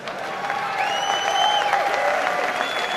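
A comedy club audience breaks into sustained applause during a stand-up set, dense clapping from a crowd that holds steady for a few seconds with a faint whistle over it.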